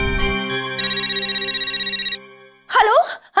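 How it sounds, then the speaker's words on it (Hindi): On an outgoing phone call, a loud, close ringback tone pulses in a quick regular warble for over a second before a voice begins speaking. "एक सेकंड, मैं रोशन आंटी को फोन करती हूँ।"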